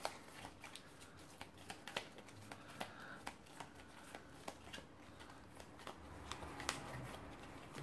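A deck of cards for the board game Dawn of the Zeds is shuffled up close: a quiet, steady run of crisp riffling clicks and papery snaps with no talk.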